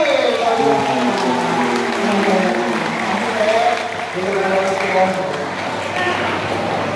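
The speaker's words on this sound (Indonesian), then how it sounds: "Tepuk tangan semuanya" Students clap together at a school Islamic short course at SMPN 1 Kramatwatu, a steady clapping texture under loud voices and group chanting that continue throughout.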